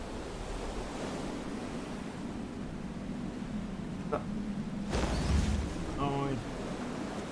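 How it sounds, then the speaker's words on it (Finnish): Wind and ocean waves in the video game FAR: Changing Tides form a steady, broad wash of noise throughout, swelling slightly near the end, with a few brief clicks and a short tonal blip layered on top. "Ja nyt olisi tuuli."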